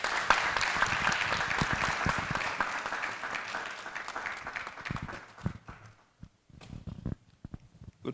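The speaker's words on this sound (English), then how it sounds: "let's welcome him with a round of applause" An audience at a university economic review event breaks into dense, sustained applause to welcome a provost, then thins out into scattered claps.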